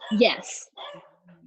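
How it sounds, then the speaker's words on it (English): Pet dogs bark indoors in a few short loud bursts, with a person murmuring briefly over them. "you can hear my dogs barking."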